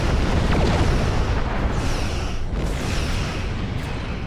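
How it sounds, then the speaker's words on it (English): Torpedoes striking shields in a Star Trek space combat video game produce a dense, continuous roar of rumbling explosions and crackling impacts, loud and sustained with slight surges throughout. "He keeps bringing his shields up just in time for my torpedoes to hit."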